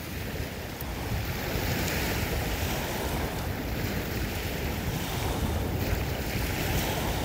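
Wind and lapping water at the shore of the Étang de Berre in southern France, a continuous loud rush of gusts buffeting the microphone over steady waves, with no voices.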